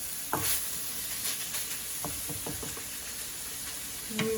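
Ground meat frying in a pan for Vietnamese hu tieu nam vang, a steady close sizzle with scattered scraping and tapping from stirring, several soft knocks near the end.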